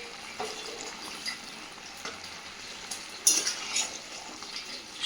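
Banana flower cooking with potato and prawns in a dry pan, no water, giving faint sizzling and frying with occasional scraping stir strokes and utensil clinks.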